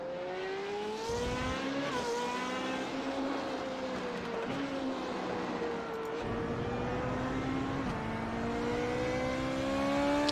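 Formula 1 car engine at a track test session, a loud sustained high-pitched whine rising and falling through gear shifts as the car laps, heard onboard and close with no talk.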